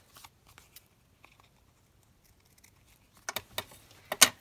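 Scissors snipping a paper rose off a card craft, a few faint isolated snips followed by a louder cluster of quick crisp cuts near the end.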